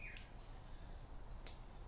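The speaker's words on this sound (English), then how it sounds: "that bird song sounds lovely" A songbird sings outdoors, giving two short, high chirps about a second apart. The calls are faint and distant over a steady low background hum.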